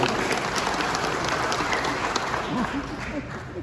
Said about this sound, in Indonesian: Tepuk tangan untuk Ketua Kornas.